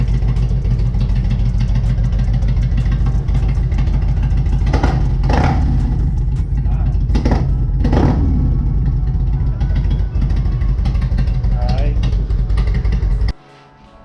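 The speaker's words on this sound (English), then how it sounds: "You want to hold it and I just rev it a little bit." A roughly 20-year-old Harley motorcycle engine idles steadily in a garage with a low constant rumble, blipped a few times into brief revs, then cuts off abruptly near the end.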